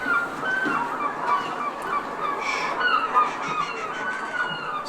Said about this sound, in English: Seagulls are too loud.